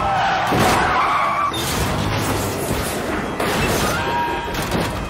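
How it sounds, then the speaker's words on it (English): A CG car plunges off a road in the thriller film Along Came a Spider, with loud skidding and a run of heavy crashing booms and rumbling impacts over about five seconds. "This CG car falling off looked decent."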